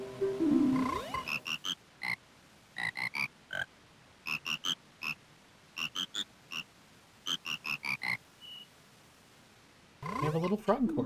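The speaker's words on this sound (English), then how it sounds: "a little frog chorus." A frog chorus from the video game Majora's Mask 3D: bright, tonal croaks in short rhythmic clusters, repeated phrase after phrase over quiet background, with a swell of game sound at the start and end.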